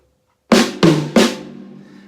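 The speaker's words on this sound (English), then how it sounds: "I'm going to use my smallest tom-tom, the high tom-tom." A triplet of three sharp drum hits on a kit, one struck on the small high tom-tom, punchy and close, the final stroke decaying over about a second.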